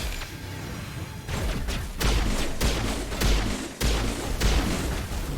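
Rapid pistol fire during combat in Mass Effect Legendary Edition, a run of sharp, loud shots at an irregular rhythm over a steady rumbling game background.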